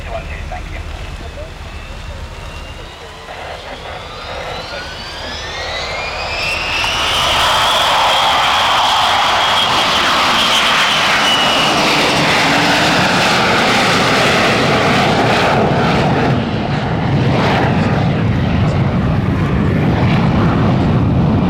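A Lockheed U-2 reconnaissance jet roars in and passes overhead close to the runway at an airshow, its engine swelling from a distant hum to a loud, sustained whine and rumble.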